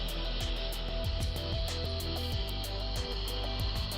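A Rotovac 360 carpet cleaning machine rotates and scrubs carpet with a steady mechanical whir and a constant motor hum, overlaid by a rapid repeating rhythmic swishing pulse.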